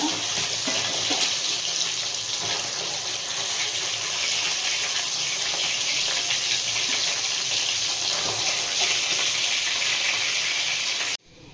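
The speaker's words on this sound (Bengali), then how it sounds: "মাছগুলো সব ভাজা হয়ে গেছে এবার আমি তুলে নেব" Parshe fish fry in hot oil in a pan, making a loud, continuous, close sizzling hiss that holds steady for about eleven seconds before cutting off sharply.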